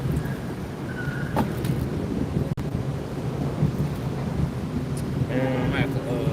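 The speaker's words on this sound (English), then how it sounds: "it just got real windy and everything started kind of tipping over" Strong wind blows outdoors, a steady low rumble buffeting the microphone for the whole stretch, with faint scattered sounds in the background.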